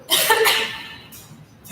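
A single harsh, breathy cough burst up close, with a sharp onset and a noisy tail that trails off, followed by a brief rustle.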